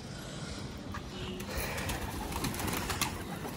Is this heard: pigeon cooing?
yes